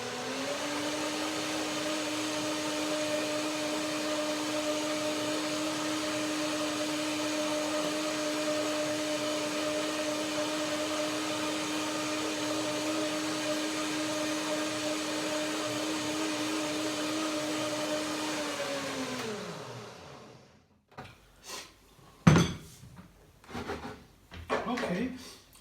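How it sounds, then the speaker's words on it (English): A blender runs continuously on a kiwi and mango salad with macadamia cream, a steady loud whir for about twenty seconds before cutting off, followed by clunks and handling noises. "I will blend it one more time, and then I taste it again."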